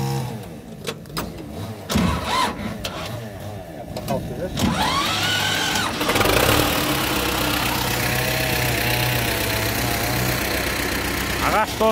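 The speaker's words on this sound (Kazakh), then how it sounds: "Қазір мен тракторымызды оталдырайын деп жатырмыз." A tractor engine cranks over and catches, settling into a steady idling rumble that carries on to the end, with a person speaking nearby before and during the start.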